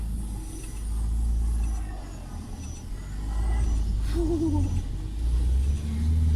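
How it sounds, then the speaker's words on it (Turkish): A car on snow with its snow socks removed tries to pull away, its engine rumbling and revving unevenly in the open air. "Daha aracı yerinden hareket ettiremedik"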